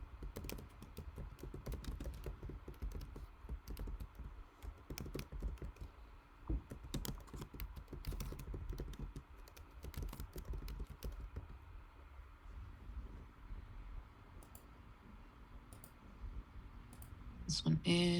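Computer keyboard typing in a lab setting, a fast, irregular run of soft clicks and taps that continues for most of the stretch at low volume, with a few louder keystrokes near the end.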